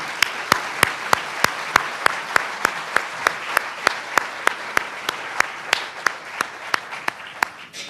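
Loud applause at an elementary school awards ceremony for the children, with one nearby clapper beating a sharp, steady rhythm above the crowd's continuous clapping throughout.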